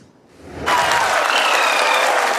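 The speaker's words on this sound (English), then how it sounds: "This control room in India burst into applause as the Chandrayaan-3 unmanned lunar module landed on the moon Wednesday morning" An Indian mission control room erupts into applause at the Chandrayaan-3 lunar module's moon landing; after a quiet moment the clapping surges in abruptly and holds loud and dense.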